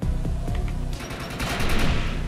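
Rapid machine gun fire from the Defiance 2050 video game, a loud continuous burst of automatic shots that intensifies partway through, with no talking.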